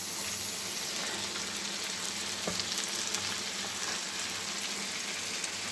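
Beans fry in a pan for fajitas with a continuous soft sizzle, a dense, even hiss that holds steady throughout. No one speaks.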